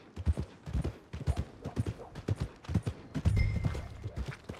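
Horse hooves clip-clop in steady rhythm along a path in Red Dead Redemption 2, close and clear, with a short rattle of tack near the end.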